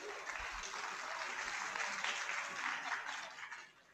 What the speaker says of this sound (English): I'm so happy that you clap hand today